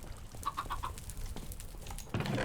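A video game chicken clucks in a quick run of four short notes, then a couple of softer clucks follow before a burst of brighter noise at the end.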